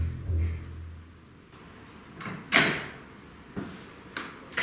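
A door in a dramatized indoor scene swings and shuts with a series of close knocks and thuds, a louder bang midway followed by lighter clicks and bumps, with no talking.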